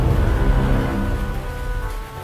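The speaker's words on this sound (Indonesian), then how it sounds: "Hujan nih." Rain falls steadily outdoors during a family outing, a dense, loud, continuous patter with low rumbling underneath and no voices.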